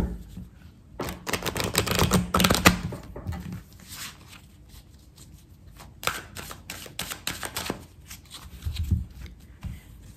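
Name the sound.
cutting and shuffling a deck of tarot cards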